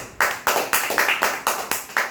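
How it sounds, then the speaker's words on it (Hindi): Audience clapping at a DXN business meeting in Madhubani, heard as eight short separate claps about every quarter second, each a crisp burst, fairly near and alone with no talk over them. "और मेरे अंदर इसके लिए एक ताली होना चाहिए।"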